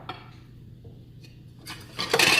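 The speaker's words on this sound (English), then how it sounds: "And then you just stir this up." Salt, brown sugar and butter for a caramel are stirred in a pot, a few soft scrapes and light clinks of a utensil, then a louder burst of scraping near the end.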